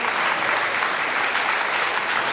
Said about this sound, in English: can the big people give little people a round of applause, please?